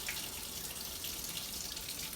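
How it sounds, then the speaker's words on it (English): Cold well water runs steadily from a kitchen tap, a constant close hiss and splash with no other sounds. "if you run this water for a little while, it gets real cold, and that's what we want"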